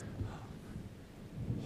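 Low rumbling thunder from an approaching storm in a cartoon setting, a soft rolling boom swelling twice amid a steady background hiss, fairly quiet and without speech.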